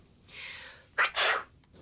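A person sneezes once, a sharp intake of breath followed by a loud burst and a short trailing exhale, close and alone.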